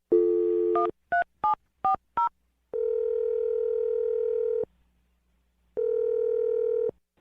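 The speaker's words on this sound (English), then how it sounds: "I'm going to dial her phone number right now." A telephone line plays a short dial tone, then five quick touch-tone dialing beeps, followed by two long ringback tones separated by a second of silence as a phone number is called.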